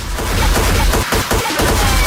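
Dense, booming low-end thumps repeat steadily through a loud electronic mix, heavy and distorted, with no talking.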